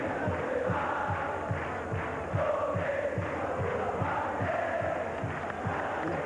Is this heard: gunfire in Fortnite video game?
no